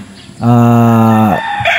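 A rooster crows once, a loud, drawn-out call lasting about a second, with faint clucking around it.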